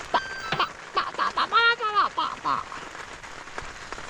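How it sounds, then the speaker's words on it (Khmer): Rain drips onto a tent on a mountain top at night, a soft, steady patter heard beneath a person talking nearby. "លើតែសំឡេងទឹកភ្លៀងស្រក់នៅលើតង់លឺ"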